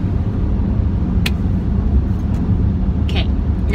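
Steady low road rumble from inside a moving car on the way to a beach date, continuous and loud, with a few faint clicks and brief sounds on top.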